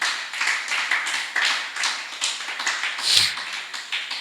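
A small church congregation claps during a sermon, a few close hands giving a rhythmic, slightly uneven patter of individual claps rather than a dense roar.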